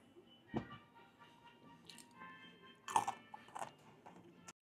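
Someone eating a rolled beef taco with stewed, seasoned beef, giving quiet close crunchy bites and chewing in scattered bursts with pauses in between.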